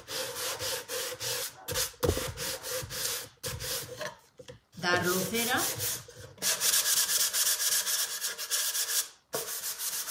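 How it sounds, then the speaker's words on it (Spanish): Hand sanding on a wooden letter holder in repeated scraping strokes, close and fairly loud, with brief pauses between passes and a short spoken word partway through. "Ahora esto sería lijarlo otra vez todo"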